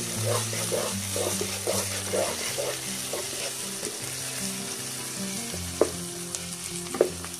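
Steady sizzling of ginger and garlic frying in a pan, with a few sharp clicks of stirring, under a low tonal hum and faint background music.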